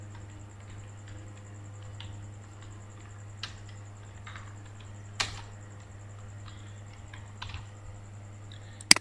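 Someone types a signature line in an MS Word document, with sparse, faint keystrokes and occasional sharper clicks over a steady low electrical hum.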